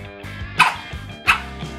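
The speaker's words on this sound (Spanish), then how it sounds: "Te he dicho que no ladres." A dog barks twice in short yipping bursts, close and loud, with a whimpering tone between them over a faint background hum.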